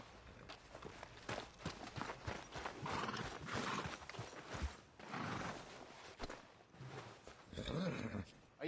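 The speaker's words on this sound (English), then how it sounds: "mount that new horse of yours?" Horse in a video game, hooves clip-clopping in an uneven walking rhythm with snorts and a short whinny near the end, quiet and close.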